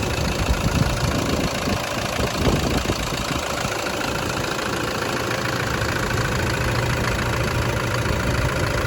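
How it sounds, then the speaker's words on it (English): A 2013 Toyota Hilux engine idles with the hood open, giving a steady, even mid-low rumble that runs unbroken for the whole stretch with no talking over it. "so at least you know it's got an engine and it runs"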